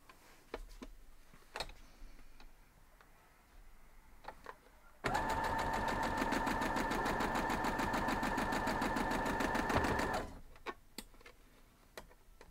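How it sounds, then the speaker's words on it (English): Sewing machine stitching quilt block pieces runs in one steady, fast rhythmic burst of about five seconds, framed by quiet handling ticks and clicks before and after. "We're going to sew both these sides."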